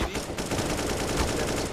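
Rapid bursts of gunfire in a competitive multiplayer shooter match landing headshots, dense and continuous for the whole moment, crackling loudly with a faint voice underneath.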